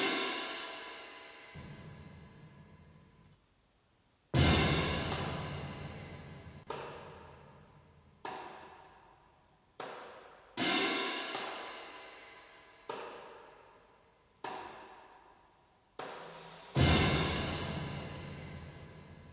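Sampled orchestral percussion booms and crashes: a heavy gran casa and timpani with splashing cymbals, hit about ten times at regular intervals, each strike decaying into a long resonant tail over a low sustained backdrop.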